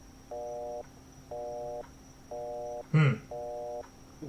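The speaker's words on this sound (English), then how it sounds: "I'll just hit the redial button on my phone." A phone redial tone in a video game, four evenly spaced electronic beeps at a steady rhythm, clear and close over a faint hum, with a short burst of voice between the third and fourth beeps.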